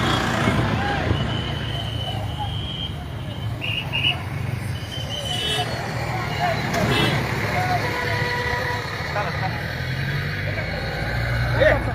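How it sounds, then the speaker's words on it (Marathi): Steady highway traffic roars throughout, with vehicles rushing past at high speed and a constant low engine rumble, and people talking and shouting over it. "हायवेला गाड्या खूप स्पीड मध्ये"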